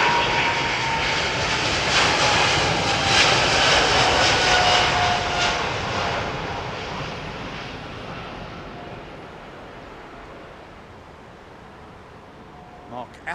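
Aircraft engines roar loudly on London Heathrow Airport runway 27R, then the roar gradually fades and recedes into the distance.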